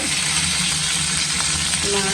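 Hot oil sizzles and crackles steadily as curry leaves and mustard seeds fry, a continuous close frying hiss with a low hum beneath and faint voice in the background.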